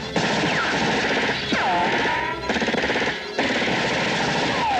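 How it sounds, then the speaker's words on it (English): Dense bursts of 1980s stock sound-library machine-gun fire and gunshots, loud and continuous with brief pauses, ricochet-like whines mixed in. "They get ambushed with every early gunfire sound effect from a 1980s sound library."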